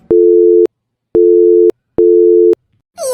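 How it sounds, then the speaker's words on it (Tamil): A telephone busy tone for an unreachable number in a Tamil cartoon: three loud, even beeps with short gaps, followed by the start of a voice at the end. "இப்படி ஒரு போன் நம்பரே இல்லைன்னு வருது."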